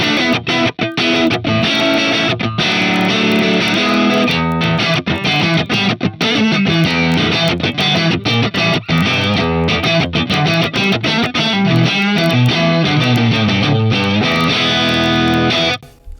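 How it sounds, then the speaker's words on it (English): Electric guitar through an overdriven Marshall tube amp tone, captured on a Tonex, plays a gritty, crunchy riff continuously, loud and up close with no talking. "Let's go for something more edgier, so more breakup tone"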